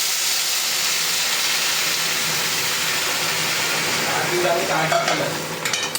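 Hot water poured into dalia (broken wheat) frying in a pan, a loud steady steaming hiss and sizzle close by that rises in bubbling and clatter toward the end, with no talking.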